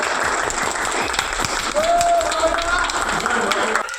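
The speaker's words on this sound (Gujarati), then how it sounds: "આપણે બધાને અભિનંદન સાથે તાળીઓથી વધારીશું" Applause from an audience at a school model exhibition honoring teachers' working models, steady clapping from a crowd throughout, with a voice speaking over it.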